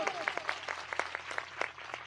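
An audience claps hands in rhythm during a church sermon, with steady sharp claps repeating at a brisk even pace and a faint voice underneath.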